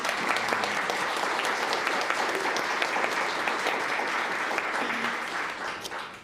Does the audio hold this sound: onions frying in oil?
no